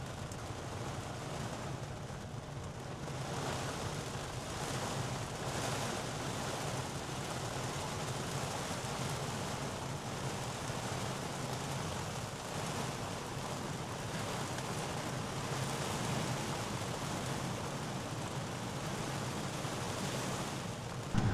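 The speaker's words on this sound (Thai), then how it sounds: "เดี๋ยวให้ดูค่าความดังของเสียงช่วงที่ฝนตกแรงๆนะครับภายในห้องโดยสาร" Heavy rain drums on a Tesla Model 3 RWD while it drives, heard from inside the cabin as a dense, steady roaring hiss that holds at an even loudness throughout, with no talking.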